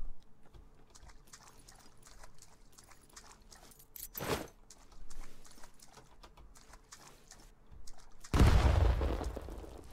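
A grenade blows up in the Last Man Standing shooter, a single loud, heavy blast near the end that follows a quiet stretch with one sharper, shorter burst midway.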